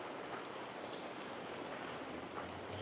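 Floodwater rushing beneath a damaged road bridge, a steady broadband roar of flowing water with wind buffeting the microphone, continuous and fairly loud with no voices.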